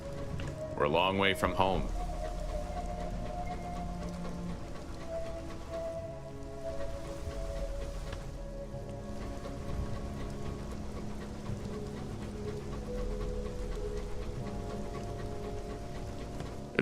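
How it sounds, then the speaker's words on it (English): Steady rain ambience in the game Sunless Skies, a continuous wash of patter with a low drone under it, while a voice speaks briefly at the start. "It sounds like rain here."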